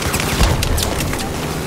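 Gunfire in Battlefield 4 cracks out as a loud, rapid cluster of shots over dense rumbling combat noise.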